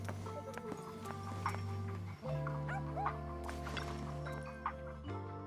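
A puppy in the video game Zenless Zone Zero gives a few short yips and barks over steady background music, fairly faint and scattered across the clip.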